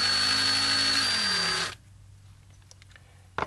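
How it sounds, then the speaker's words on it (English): A drill bores very slowly, under ten RPM, into a miniature figure; the close, steady whir runs for under two seconds and then cuts off into near silence, with a faint click at the end. "I set the drill in place and just went very slowly"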